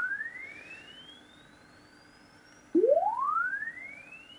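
A homebrew audio amplifier plays a pure sine test tone that glides steadily upward in pitch, then restarts abruptly as a louder rising sweep, clean and alone.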